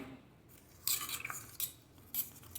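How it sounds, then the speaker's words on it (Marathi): Spoon stirring thickening rabdi milk in a metal pot, three or four faint scraping clinks against the pot separated by short pauses, with no voices. "एका साईडने आपण हे चांगलं ढवळून घेणार आहोत"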